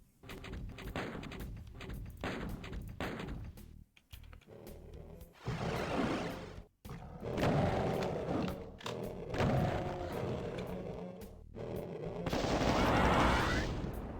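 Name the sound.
gunfire in the video game Doom 2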